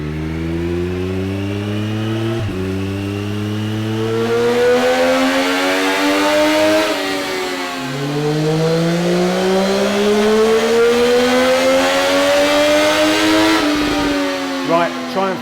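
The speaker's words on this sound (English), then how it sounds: "give it a run up on the dyno and just see what kind of power it's actually making." A 2020 Triumph Daytona Moto2 765 sport bike revs hard on a dyno, its engine pitch climbing through the gears in long rising sweeps, loud and close, before dropping off at the end of the run.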